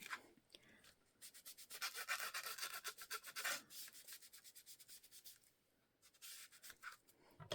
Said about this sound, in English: I think I need my glue eraser.